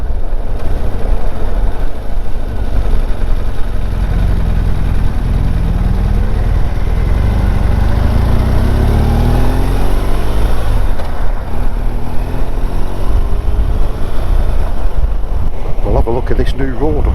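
A BMW R1200 GS motorcycle rides on a road, with a steady engine drone buried under heavy, constant wind roar, rising and falling pitch as the bike changes speed.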